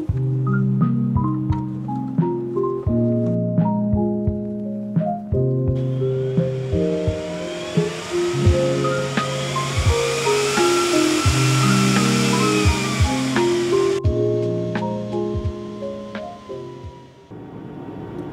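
A Cisco 9300 network switch powering on: its fans whir loudly with shifting tonal hums, then surge into a strong airy roar before dropping back to a quieter drone.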